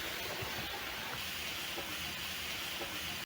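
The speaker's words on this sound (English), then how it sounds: "Next, I'm going to place in my fries carefully." Potato fries sizzle in hot oil while chicken skewers cook nearby, a steady close-up hiss with scattered small pops and crackles, broad and even with no voices.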